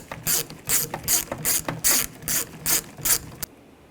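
Ratchet tightening the door handle screw on a 2014-2018 GMC Sierra 1500 front exterior door, eight loud, evenly spaced bursts of pawl clicking close up, then stopping.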